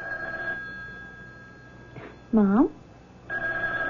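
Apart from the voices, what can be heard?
telephone ringing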